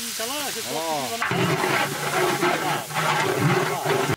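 Cooked rice fries in a pan with tomato, giving a loud, continuous sizzle and hiss that starts abruptly and runs steadily after a brief opening of music.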